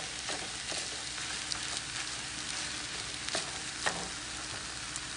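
Egg being stirred into mei fun rice noodles with shrimp in a hot pan, a steady close sizzle and crackle with occasional scraping clicks from the utensil, no voices.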